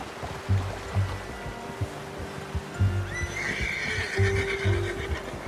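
In the video game Red Dead Redemption 2, a horse whinnies loudly as hooves clop in an uneven rhythm, with a soft watery rush in the background.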